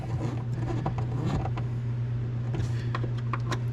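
Floor drain plugs being tightened on a Polaris General side-by-side, giving soft creaking and ratcheting mechanical clicks over a steady low hum, close and moderately loud.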